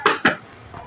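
A wok is set down on a stove for making sugar syrup, giving two quick metallic clanks close by, then a faint lighter knock; no one speaks.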